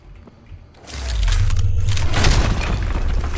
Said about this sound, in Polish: jest mina, strzelam w tą minę, to ona wybucha